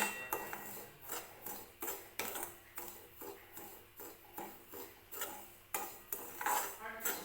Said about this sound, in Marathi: थोडासा रंग चेंज होईपर्यंत हा रवा जो आहे तो तूप किंवा तेल न टाकता भाजून घ्यायचा